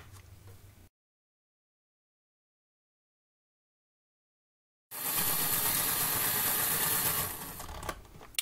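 Motor of a Fleischmann 4230 DB 212 model locomotive running: a brief buzz, then silence, then a steady high whirring hum for about three seconds that fades out, with a small click at the end.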